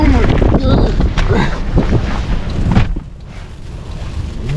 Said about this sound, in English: We recorded a 47-mile-per-hour wind gust